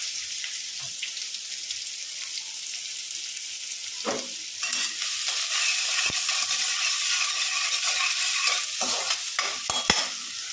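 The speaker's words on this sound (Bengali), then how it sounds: "প্রথমে আমি তেলের মধ্যে দিয়ে দেব কিছুটা পেঁয়াজ কুচি" Chopped onion frying in hot oil, a soft sizzle that swells into a loud, steady crackle midway, with sharp pops and stirring scrapes near the end.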